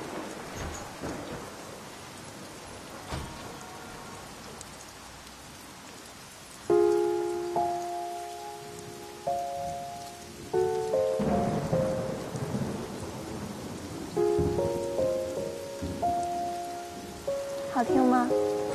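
A thunderstorm brings steady rain pattering on surfaces and deep rolls of thunder, while gentle musical tones enter partway through and continue over the downpour.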